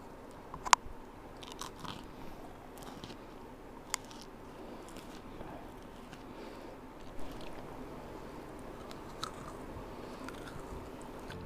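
Crunchy kastengel cheese cookies are bitten and chewed up close, with a few sharp snaps, then steady soft crunching and mastication over faint room noise.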